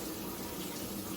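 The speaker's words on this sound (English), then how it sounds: "Look, that's hot water." Hot water running steadily from a tap in a shower setup, a constant broadband rush of moderate level with no talking.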